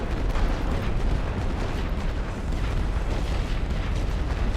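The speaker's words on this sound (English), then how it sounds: "they're immediately going to attack us with the artillery" Artillery fire in the WWI strategy game Paths of Glory, a dense, continuous rumble of booming explosions that blend into a heavy low roar throughout, with no clear gaps between blasts.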